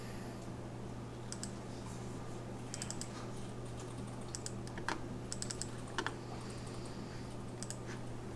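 Fingers type a file name on a computer keyboard, tapping out short bursts of quick key clicks over a steady electrical hum, with pauses between the groups of keystrokes.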